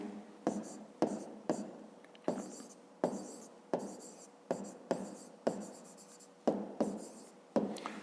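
A pen writes an answer in a notebook for a fifth-grade maths exercise, in short, regular scratching strokes about twice a second, quiet and close.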